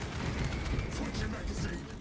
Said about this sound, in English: Switching magazine.